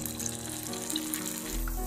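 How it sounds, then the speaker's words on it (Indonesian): Pressed tofu pieces fry in heated cooking oil, giving a continuous close hiss and crackle of sizzling. "Langsung kita goreng pada minyak yang sudah kita panaskan."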